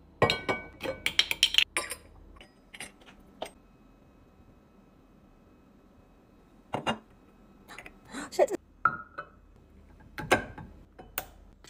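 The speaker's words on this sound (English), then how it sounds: "I'm gonna be transferring them to these glass jars. First bottle is olive oil for cooking." Olive oil for cooking is poured into glass jars, with scattered clinks and ticks of glass and a funnel coming in irregular bursts, some sparse and some clustered, against a quiet background.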